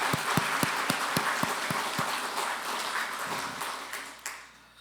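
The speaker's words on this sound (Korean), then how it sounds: "그런 분들 격려하면서 박수를 한번" A church congregation applauds during a Sunday worship service, a dense burst of hand clapping with sharp individual claps near the start that tapers off and fades out over several seconds.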